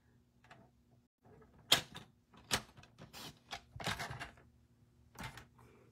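Paper trimmer slicing cardstock during a stamping craft project, a few sharp cutting swipes and taps spaced irregularly, close and crisp over a quiet room with a faint hum.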